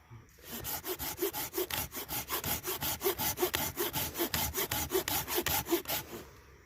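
A Silky Outback folding saw rasps through resinous fatwood in a quick, even rhythm of about two dozen close strokes, each a gritty push-pull scrape, with no talk over it.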